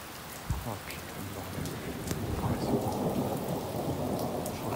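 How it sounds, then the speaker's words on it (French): Heavy summer thunderstorm over Clermont-Ferrand, Auvergne: rain pours steadily while thunder cracks sharply at the start, then rumbles and builds into a long, close, rolling growl beneath the downpour. "là, c'est vraiment le gros orage à foudre"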